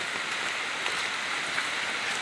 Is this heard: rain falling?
yes